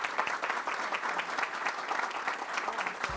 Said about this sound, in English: Please give Miss Brenda a round of applause.